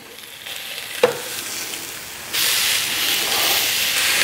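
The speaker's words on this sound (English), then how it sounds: "We'll just let this first side cook away for 3 to 4 minutes and then we'll give them a flip." Korean short ribs sizzling over high direct heat on grill grates, a steady close hiss that swells louder partway through after a brief clink, with no talking.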